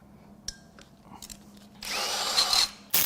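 A power tool whirs in a loud burst of about a second while unbolting a bracket on the turbo of a 2014 BMW 328i's 2.0L N20 engine, preceded by faint clinks and handling noises, then a brief restart.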